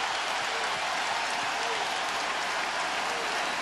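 A basketball arena crowd at a Rockets–Lakers playoff game applauds steadily, a dense, even wash of clapping that holds without pause throughout.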